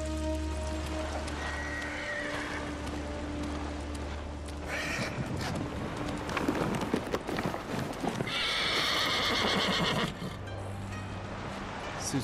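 A horse in Ghost of Tsushima, wearing the father's horse armor, whinnies loudly mid-clip among hoof clip-clops and light rain, over a low droning game score.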